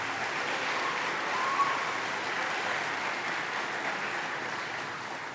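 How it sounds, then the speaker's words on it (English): Steady applause from a crowd, a dense even patter of many hands clapping throughout without pause. "Yes, a round of applause."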